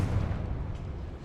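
A Confringo fire spell bursts in Hogwarts Legacy with one short, dull, rumbling low blast that fades quickly.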